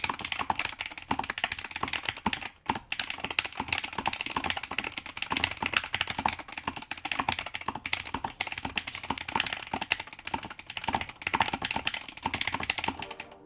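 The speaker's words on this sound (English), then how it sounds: "Yeah, let's do a typing test." Fast, continuous clacking of keys on a mechanical keyboard, close and crisp, with a brief pause partway through the steady typing.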